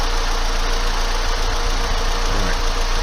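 A car engine runs steadily at idle, loud and close, while a battery and alternator tester checks the charging system; continuous low rumble with no speech.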